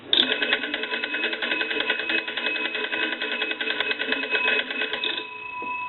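Bells of an old Monarch wooden wall telephone, rung by its hand-cranked magneto, ring in a continuous rapid clatter for about five seconds, then stop abruptly and leave a faint hum.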